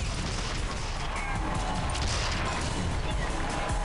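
Grenade launcher fire in the video game Tribes: Vengeance, a dense, steady stream of crackling blasts and impacts that holds loud and unbroken from start to end.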